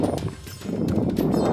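Horse hooves clip-clop at a steady walking pace while a rider sits in the saddle on a trail in Kashmir, close and fairly loud over a continuous low rumble, with no voices.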